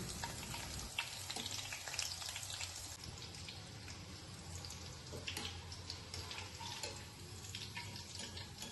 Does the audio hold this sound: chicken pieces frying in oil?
yes